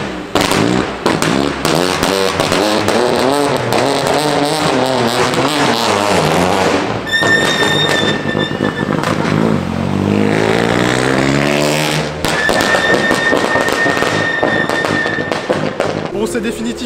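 A car's exhaust backfires with rapid crackling pops and bangs over a loud revving engine passing close by on a street hairpin, the popping continuing in dense bursts as it accelerates away; people talk over it.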